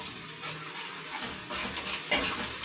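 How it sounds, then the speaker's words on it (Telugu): Ginger paste stirs and fries in a pan over cooked onions, a soft continuous sizzle with faint scraping of a spoon against metal, close and gentle, without talk. "ఈ అల్లం పేస్ట్ అంతా పచ్చివాసన పోయేంత వరకు వేయించుకోవాలన్నమాట"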